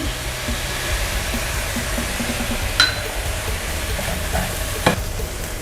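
Pickled radish and egg are stir-fried dry over high heat in a pan, a constant close hiss of frying with occasional scrapes and a couple of light clinks of the utensil.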